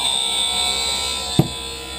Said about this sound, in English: let's start cutting your left lens